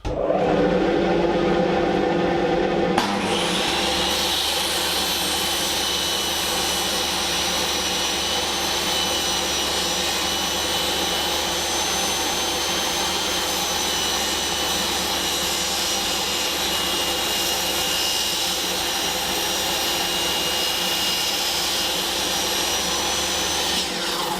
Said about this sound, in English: you use your fence to glide your material through your saw